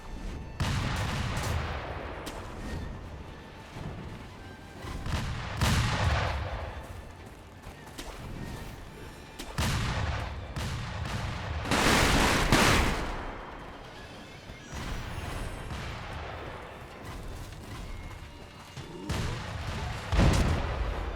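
Enemy gunfire in Sekiro pelts the player in a dense, continuous barrage, with bursts of shots swelling and easing throughout amid other game effects.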